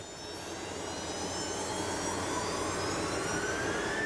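Loud, steady roar inside the cabin of an aging Soviet military transport plane flying toward Baikonur, a dense engine drone with broadband rush that holds constant throughout and has no voices over it.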